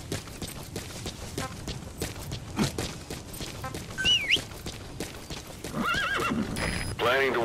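Horse in Metal Gear Solid V: The Phantom Pain, with hooves clip-clopping in a quick galloping rhythm and then several loud whinnies near the end, under game music and voices.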